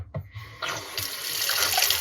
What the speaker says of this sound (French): votre eau n'est pas filtrée et coule par le robinet habituel